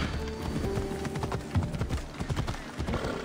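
Horse hooves clip-clop at a slow pace along city streets in the video game Assassin's Creed Odyssey, a clear irregular clatter of steps close by, with a brief whinny-like sound.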